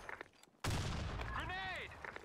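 Grenade blast in the online shooter BlackShot: one sudden loud explosion that cuts in abruptly and rumbles on for over a second, with a brief whistling tone inside it and faint clicks before and after.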